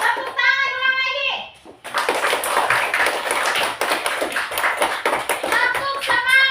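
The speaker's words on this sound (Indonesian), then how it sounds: "Tepuk tangan ulang lagi." Classroom applause starts up again after a brief spoken cue, a sustained crowd of hands clapping nearby, with children's voices at the start and end.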